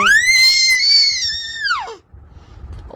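A loud, high-pitched sustained shriek from a three-month-old baby, held for nearly two seconds and then dropping off, followed by quiet background.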